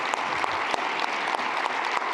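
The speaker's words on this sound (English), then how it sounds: "How about a round of applause for Dr." An audience at an Alzheimer's research and care consortium gathering claps for a presenter, a lively sustained round of many hands with sharp individual claps standing out, close and loud, with no speech.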